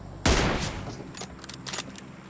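Gunfire from the mobile battle-royale game PUBG Mobile opens with one loud, close shot, followed by a few fainter cracks and rattles over roughly two seconds.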